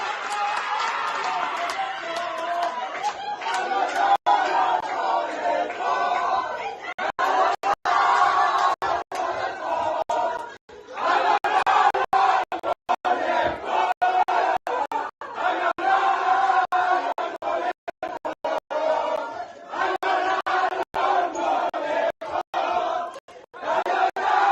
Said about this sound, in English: So obviously the whole country is cheering right now